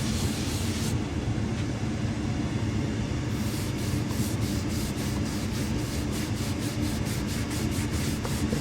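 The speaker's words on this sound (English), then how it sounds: "I'm just going to hit it with sandpaper." Sandpaper rubs wood for a Telecaster guitar body in steady rhythmic strokes, loud and close, with a continuous scratchy texture throughout and no speech.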